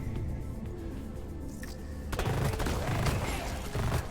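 Gunfire from a secondary weapon in Deep Rock Galactic, a space mining game: rapid, dense shots burst in halfway through after quieter ambient game noise, loud and close.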